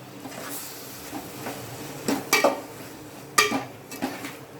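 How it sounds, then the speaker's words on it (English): Soaked soya chunks are stirred into a cooked masala gravy for a veg biryani, with a few short scraping and clattering bursts of a spoon against the pot over a quiet simmer. "And we'll add the soya chunks which are soaked. and we'll give a quick stir."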